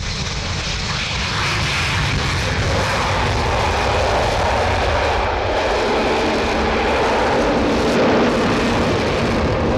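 The Avro Vulcan XH558 jet bomber flies at an RAF Church Fenton air display, a steady broad engine roar that holds for the whole span without breaks. No one speaks over it.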